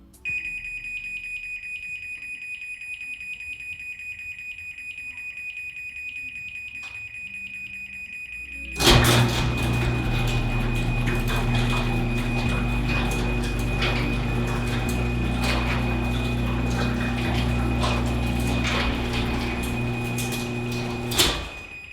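A MyQ smart-hub-controlled garage door closing, opening with a steady high alarm beep, then a loud, sustained motor drone and rumble of the door travelling down, ending with a brief thud.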